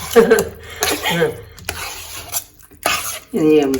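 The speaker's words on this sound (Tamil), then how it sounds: "இதை நல்லா முதல்ல கிளறிக்குவோம் நம்ம." Utensils scrape and clatter against a pot stirring bisi bele bath, mixed with a person's voice and a cough-like noise.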